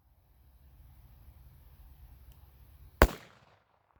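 A single loud, sharp gunshot from a .45 ACP pistol firing Blazer 230-grain full metal jacket ammunition, cracking suddenly after a few seconds of low outdoor rumble and fading quickly.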